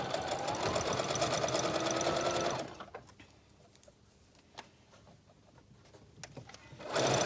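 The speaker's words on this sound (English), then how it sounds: "Put your fringe with the bottom of your fringe with the bottom of the garment and begin to sew" A sewing machine stitches fringe onto the bottom of a garment with a fast, continuous whir, stops for a few seconds of faint handling clicks, then starts running again.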